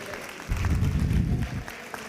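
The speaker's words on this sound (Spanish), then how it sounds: "Les pido un aplauso y les agradezco a todos" Brief burst of audience applause at a talk on medical marketing, a short muffled swell of clapping that rises abruptly and tails off within a second or two.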